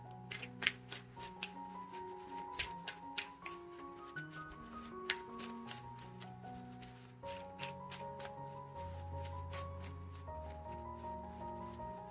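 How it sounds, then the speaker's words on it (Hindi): Playing cards are shuffled by hand in a string of quick riffling and tapping bursts, close and soft, under steady background music with no talking. "आप डिसाइड कीजिए, तब तक मैं कार्ड शफल करती हूँ।"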